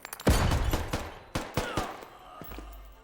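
A flashbang thrown into a kitchen in the tactical game Door Kickers 2, with a sharp loud bang followed by several quick gunshot-like cracks in an irregular burst.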